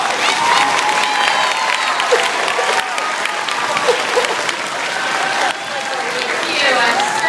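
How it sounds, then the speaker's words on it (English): A school audience applauds a guidance counselor being introduced, steady dense clapping with some cheering filling the room, voices mixed in throughout. "Give Mrs. Steele a round of applause."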